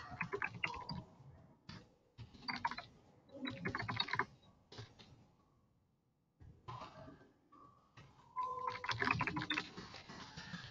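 Fingers type on a computer keyboard into a text box, close clattering runs of keystrokes broken by pauses, with no talk.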